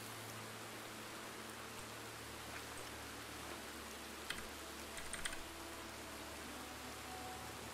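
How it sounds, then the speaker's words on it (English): Steady rain falls across a desert in the RedM game, a soft even hiss lasting throughout with a few faint clicks. "These rains in this stupid desert."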